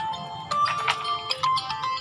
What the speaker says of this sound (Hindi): लो ये भाई कोई फ़ोन कर रहे हैं